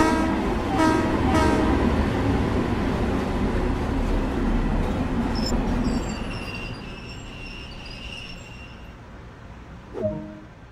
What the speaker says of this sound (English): An emergency brake has occurred, and the train is now coming to a stop.